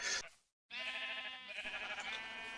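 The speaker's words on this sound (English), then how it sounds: "The sheep eat the grass. It triggers the dispenser with the shears to shear the sheep" Minecraft sheep bleat on a game sheep farm: one short call, a brief silence, then a longer wavering bleat with a second overlapping call, close and clear.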